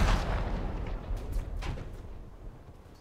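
Naval gunfire in War Thunder as a frigate's artillery engages a German destroyer: a heavy boom opens, then repeated distant shots and rumbling blasts roll over a constant low drone, with no talk.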